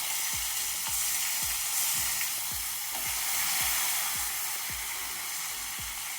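Onion paste fries in hot oil for a Bengali katla fish curry, giving a constant bright hiss with a quick series of regular low spatula knocks against the pan, close up and without speech.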